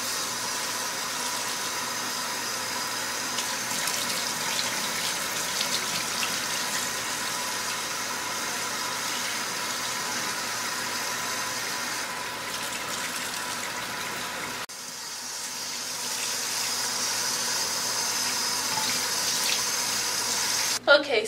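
Running tap water pours steadily into a sink while rinsing dye from a wig, briefly dipping then resuming, with a faint low hum underneath.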